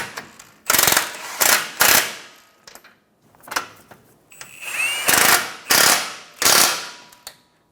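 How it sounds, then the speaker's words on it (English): A tool tightens the two front control arm bolts into nuts welded to the subframe of a 2014-2019 Toyota Highlander, giving about eight loud, sharp mechanical bursts in an uneven rhythm with short silences between. "Tighten the 2 front control arm bolts."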